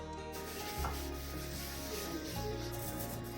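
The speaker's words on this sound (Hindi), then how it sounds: "आप एक स्क्रबर लेकर इसको अच्छी तरीके से स्क्रब कर लें।" A scrubber rubs back and forth over a stainless steel kitchen sink, a close, continuous abrasive scratching with a couple of heavier strokes standing out.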